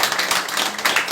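A church crowd claps for Jesus, a dense, fairly loud burst of applause that fills the short moment without a voice over it.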